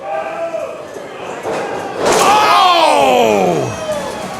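A metal shutter door slams down in a wrestling video game deathmatch, one loud crashing impact followed by ringing clatter, with a commentator talking over the noise.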